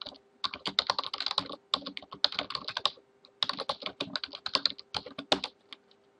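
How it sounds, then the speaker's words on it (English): Computer keyboard typing at a Linux shell: quick bursts of crisp key clicks in uneven flurries with short pauses, close and moderately quiet, no voices. "I'm typing from my keyboard."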